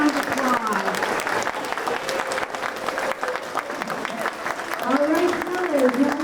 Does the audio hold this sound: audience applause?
yes